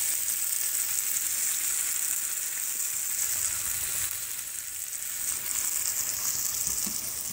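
Steak with peppers and onions sizzles steadily in a hot pan, a continuous close, bright frying hiss with faint crackles and no talking.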